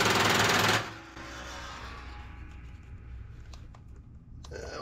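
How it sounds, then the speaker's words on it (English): Impact wrench on a 14 mm bolt of a Poulan riding mower: a loud, dense buzzing burst for under a second, then a quieter, steady mechanical hum with faint clicks. "but we'll try the impact on here."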